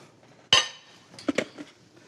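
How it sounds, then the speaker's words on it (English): Shrimp dropped into a bowl, with a sharp clink of dish or utensil followed by a few lighter clatters and taps, close and otherwise quiet. "So, take the shrimp, put it in the bowl"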